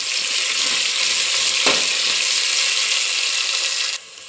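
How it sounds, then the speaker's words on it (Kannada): Two medium onions and mint fry in hot oil with a loud, continuous hiss, one scraping stir near the middle, and the sizzle drops off abruptly at the end. "ಈರುಳ್ಳಿ ಸ್ವಲ್ಪ ಫ್ರೈ ಮಾಡ್ಕೊತೀನಿ ಆಯಿಲಲ್ಲಿ"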